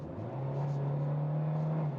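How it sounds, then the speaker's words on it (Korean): A Hyundai Grandeur IG 2.4 accelerating from about 54 to 62 km/h, its engine revving quickly upward in a steady, rising drone heard from inside the cabin. "62km까지 한 8km 정도 가속을 해봤어요"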